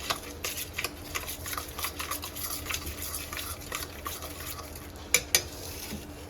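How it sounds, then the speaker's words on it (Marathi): A spoon stirs chili and oil into a vegetarian fish dish in a home kitchen. Quick, uneven scraping and stirring strokes fill the clip, with two sharp metallic clinks against the bowl near the end. "तर आता हे पूर्ण मिक्स करून घ्यायचं"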